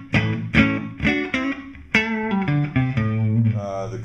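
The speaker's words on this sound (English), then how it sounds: "Here's the amp with no reverb." Electric guitar on the neck pickup played through a Fulltone wah pedal into an amp with no reverb: a run of distinct plucked notes and chords with sharp attacks, fairly loud and dry, with no voices.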